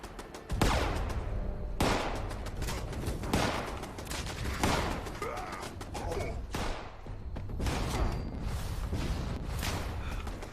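Gunfire in the video game Fallout 76, dense rapid volleys of shots with repeated heavy bursts, loud and continuous throughout.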